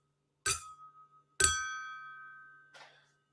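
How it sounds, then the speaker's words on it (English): A martini glass is tapped twice, each strike giving a bright ringing ping that decays slowly, the second one sustaining longer, with a faint third tap at the end; close and otherwise quiet. "I tinged off my martini glass."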